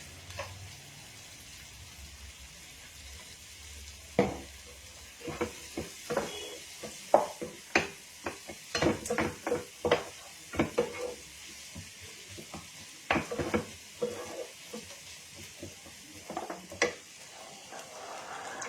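Chopped garlic, 15 to 20 cloves, frying in a pan for butter garlic paneer fried rice: a soft background sizzle under scattered close scrapes and clinks of a spatula stirring, with no talking.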